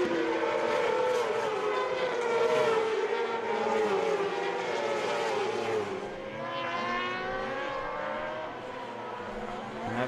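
Racing sidecar outfits lapping the Sachsenring circuit at a FIM Sidecar World Championship round, a continuous high-revving engine wail that shifts pitch through gear changes and corners, loud and sustained with no talk.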